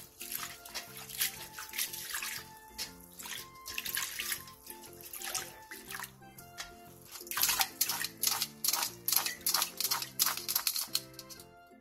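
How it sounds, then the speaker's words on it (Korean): Blanched bean sprouts are rinsed in cold water in a kitchen, with running and splashing water, clattering, and rustling handling sounds that grow busier and louder toward the end. "데친 콩나물은 찬물에 헹군 뒤 물기를 빼놔주세요."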